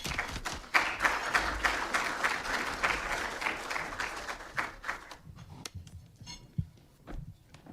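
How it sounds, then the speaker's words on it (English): Audience applause welcoming five expert panelists at a think-tank policy discussion, dense clapping that swells then thins out into scattered claps and fades toward the end. "Let's welcome the 5 experts with a warm round of applause."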